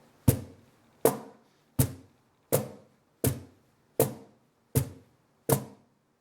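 Eight evenly spaced, sharp slaps on a wooden cajon sound close and dry, each with a quick decay. The steady pulse outlines a simple rock beat, with no talking.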